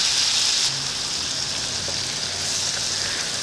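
Mantis shrimp sauté in a pan of lemon butter, a close, bright continuous sizzle with spattering crackle that swells and eases slightly as they are moved around.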